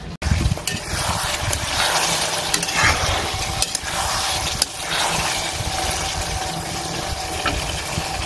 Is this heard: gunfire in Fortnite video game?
no